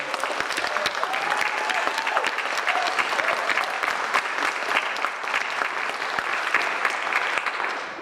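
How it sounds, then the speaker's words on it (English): Sustained, steady applause from an audience at a visiting poet series, honoring poet Aurielle Marie. The clapping is dense and even from start to finish, with a faint voice briefly heard above it. "please, another round of applause for Aurielle and their poetry"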